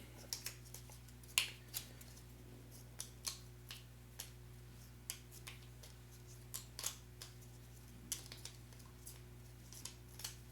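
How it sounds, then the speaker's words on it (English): Harvest board game sunrise tiles being shuffled on a table: a steady series of soft, dry clicks and taps, close and quiet, with no talking. "let's shuffle the sunrise tiles"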